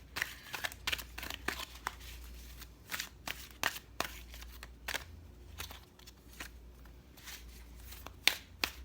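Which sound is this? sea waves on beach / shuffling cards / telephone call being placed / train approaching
shuffling cards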